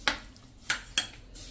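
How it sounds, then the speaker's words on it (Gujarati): A spoon clinks against a bowl three times as spices and coriander are stirred into bottle gourd paste, light scraping between the sharp taps, close and fairly quiet with no talk. "હવે આ બધું આપણે મિક્સ કરી લેશું"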